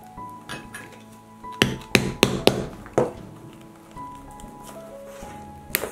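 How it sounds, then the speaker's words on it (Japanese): A metal hole punch is struck with a hammer to pierce leather for a handmade tote bag, giving a quick series of five or six sharp, loud knocks close by, then a final single strike after a quieter pause. "カシメ台が打てる1番の穴あけポンチを使ってください。 はい、でここにね穴を開けます。"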